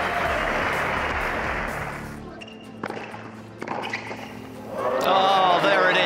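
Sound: tennis crowd applauding

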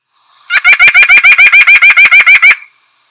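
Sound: white-breasted nuthatch call

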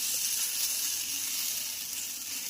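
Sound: moong dal and jowar flour dhirde batter sizzling on pan

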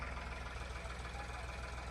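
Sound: tractor engine running in a peanut field

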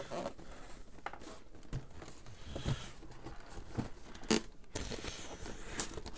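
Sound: opening the Saints Row IV Wub Wub Edition box

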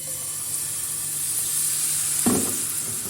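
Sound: dill crepe batter frying in a pan

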